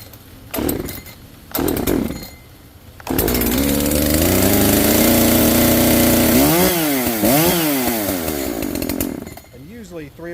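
A chainsaw takes a few sharp pull-cord yanks, then fires and runs loudly close by, holding a steady buzz before several quick revs rise and fall and it cuts off.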